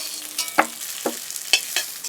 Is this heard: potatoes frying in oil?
yes